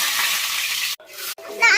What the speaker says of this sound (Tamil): மிக்ஸ் பண்ணிக்கலாம்.